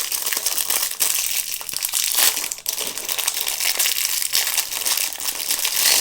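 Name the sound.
plastic sachet of wooden meeples being opened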